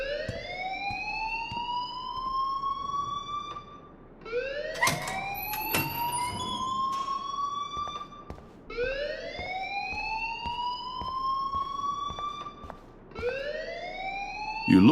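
An alarm from the video game Life is Strange wails in repeated rising sweeps, each lasting about four seconds, cycling steadily and loudly with no speech over it.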